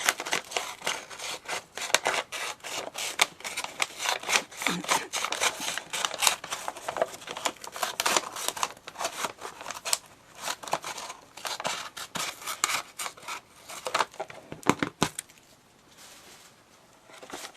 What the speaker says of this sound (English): Just going to cut a little bit off.